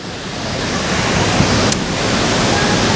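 Tegenungan waterfall in Bali, a large cascade pouring steadily as a dense, continuous rush of water, loud and close, with a faint wind-like hiss over the roar and no talk.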